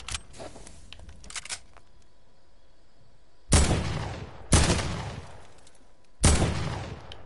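Three loud, sharp gunshots from a game, each cracking out and fading quickly, spaced about a second or two apart after a quieter stretch.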